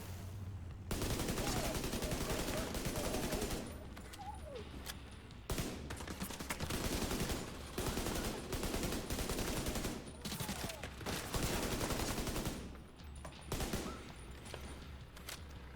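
Gunfire from The Division 2, a third-person shooter, comes in long rapid automatic bursts. Loud, dense volleys fill most of the stretch, broken by short pauses, with fainter shots and distant reports in the quieter gaps.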